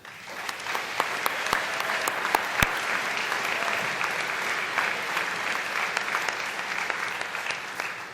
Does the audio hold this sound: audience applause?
yes